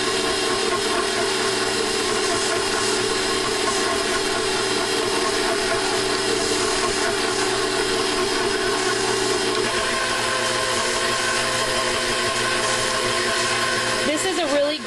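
Electric mixer beating chocolate chip cookie dough with baking soda, a loud steady motor whir running continuously at close range, pitch shifting slightly near the end, with a voice talking over it.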